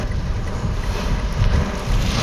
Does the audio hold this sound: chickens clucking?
no